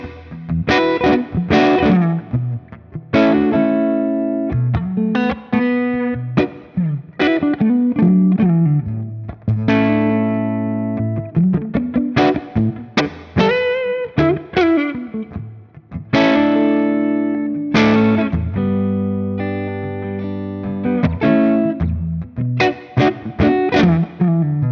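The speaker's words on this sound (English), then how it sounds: "I'm gonna run it through the Thorpe FX Dane, because it has a boost on one side, then it has an overdrive" An SG-style electric guitar played through a Thorpe FX Dane boost and overdrive pedal rings out in driven, sustained chords and riffs, loud and alone, with short pauses between phrases.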